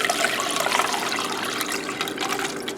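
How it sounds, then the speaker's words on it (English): Liquid with seeds in it is poured through a strainer in a continuous splashing, trickling stream, close and steady, with no talk. "I'm just having Randy go ahead and pour the liquid through the strainer."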